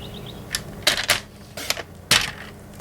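Card stock being cut to size on a paper trimmer while making a mask card: a few sharp, brief slicing and sliding strokes, close and fairly loud, separated by short quiet gaps.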